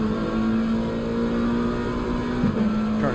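Onboard a McLaren GT3 race car in Assetto Corsa Competizione, the engine holds a loud, steady high drone, then drops briefly as the driver shifts or lifts before picking up again.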